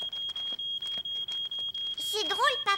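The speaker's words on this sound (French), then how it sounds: "Mon pain a brûlé et la fumée a déclenché l'alarme" A smoke alarm set off by smoke from burnt bread sounds a loud, shrill, rapidly repeating beep, and a voice speaks over it toward the end.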